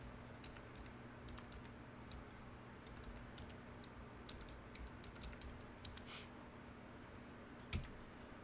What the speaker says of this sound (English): I'm going to type my Oculus Quest username in the chat.